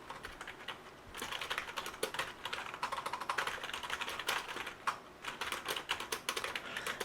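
Rapid typing on a computer keyboard, entering product description text, with steady close clicking keystrokes throughout and no talking.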